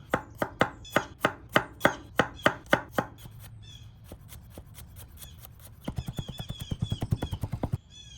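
A knife chops through two garlic cloves on a cutting board with crisp, evenly spaced knocks, first slow and heavy, then a pause of lighter taps, then a quicker rapid burst of close mincing strokes.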